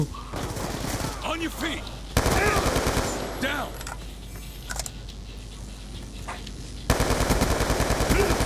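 Gunfire in a Call of Duty Black Ops 2 multiplayer match against bots, loud rapid machine-gun bursts at the start, middle and end, with people talking between the bursts.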